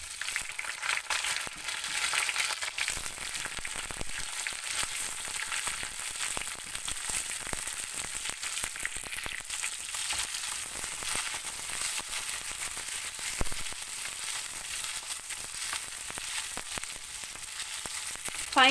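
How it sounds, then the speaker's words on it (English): Frozen shallots, about fifteen of them, sizzle steadily in pure sesame oil, a dense crackling fry with scattered pops that runs unbroken and fairly loud from start to finish with no voices. "This is a pure sesame oil. That's why the bubbles are coming like this. To this, I'm adding around 15 shallots. I'm using frozen shallots."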